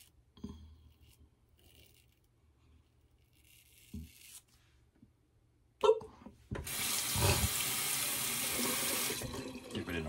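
Tap water runs steadily and loudly from a faucet to wet a DSCosmetic barber pole shaving brush, a continuous broadband rush following a few faint clicks and a sharp knock.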